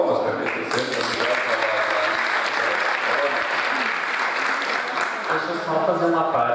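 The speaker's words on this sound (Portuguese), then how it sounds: "Palmas para a EBDC" Enthusiastic applause from an audience at a forum on educating cities fills the room, a sustained dense clatter of clapping lasting several seconds at moderate loudness.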